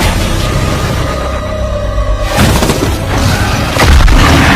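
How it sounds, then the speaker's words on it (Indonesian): A thrown bomb explodes against a monster as a deep boom bursts in loudly, followed by a rumbling aftermath and a second heavy thump, with no voices. "dia pun melakukan pengorbanan dengan melempar bom ke tubuh monster tersebut"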